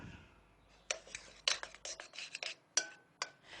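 Butter cut into a flour, cayenne and Parmesan cheese-straw mix in a bowl, heard as a quiet series of irregular scraping clinks of a utensil against the bowl, close and alone.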